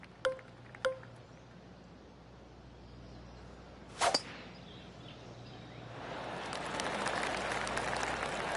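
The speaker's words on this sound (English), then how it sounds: "I can hear the golf claps around the course." Scattered golf claps from a gallery spread around the course in the 2K25 golf video game, a crackling, sustained spatter of applause swelling in the last few seconds after a couple of sharp knocks earlier, with no talking.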